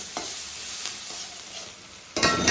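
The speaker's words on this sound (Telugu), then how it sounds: "వేగిపోయినాయి టమాటా ఉల్లిపాయలు టమాటాలు కూడా వేసుకున్నాము" Tomatoes and onions fry in a pan with a steady close sizzle and occasional light stirring scrapes, ending in a sudden louder burst of spattering hiss as the pan is stirred or more is added.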